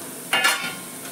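Onions frying in a pan, a soft close sizzle with a brief louder swell of stirring scrapes near the start that then settles back to a low hiss.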